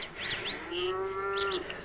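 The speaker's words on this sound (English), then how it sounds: "Oh, the cow's due for milking, too." A cow moos in one long sustained low call, with wind and faint bird chirps behind it, in a rural setting beside a farmhouse.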